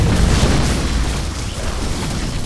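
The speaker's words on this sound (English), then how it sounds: "Colossi being destroyed" Colossus units blowing up in a StarCraft II match, a thick sustained boom and rumbling blast wash, loud and heavy in the low end without separate individual bangs.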